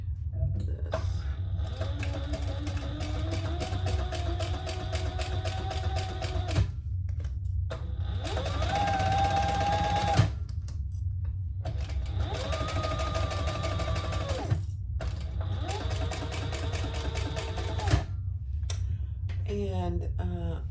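A sewing machine runs in long steady bursts while top stitching a leather waist pack, with short pauses between runs and a low motor hum underneath.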